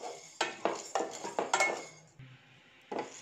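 A spoon scrapes and clinks against a pan while dry roasting chana dal over a medium flame, with repeated metallic stirring knocks at an uneven rhythm and a brief lull, close and moderately quiet.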